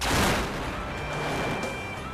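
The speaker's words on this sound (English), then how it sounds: "when the explosion went off" Large tube blowing apart in an explosives test, a loud crackling blast burst up front that decays into a dense, rumbling roar and debris noise lasting a couple of seconds, with no talking.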